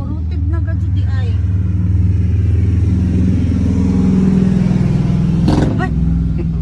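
A motorcycle engine rumbles steadily nearby with a low, continuous drone, while people talk over it throughout.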